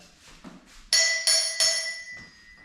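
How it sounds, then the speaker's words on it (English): A hammer strikes a bicycle crank three times in quick succession, each blow loud, close and metallic with a bright ringing tail, after softer handling knocks. "Get a hammer."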